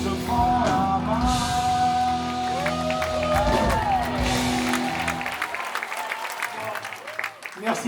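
A concert audience at Bobino applauds a singer during an 80s-90s themed show. Dense clapping and crowd noise fill the first half with a few sung tones through it, then the clapping thins into scattered claps.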